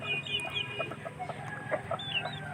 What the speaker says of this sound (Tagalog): Makalingaw jud kung duna kay mga alagang manok.